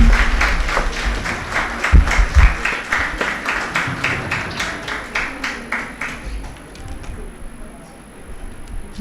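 An audience at a national moot court competition claps in a steady, rhythmic beat of many hands, loud at first and gradually thinning and fading toward the end.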